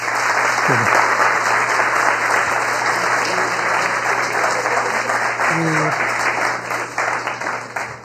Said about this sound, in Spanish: Por favor, de nuevo un aplauso para...